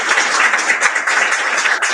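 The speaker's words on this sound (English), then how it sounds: "give another special round of applause again" An audience at a university arts hall of fame induction ceremony gives a sustained round of applause that holds steady and fairly loud throughout, with dense overlapping claps.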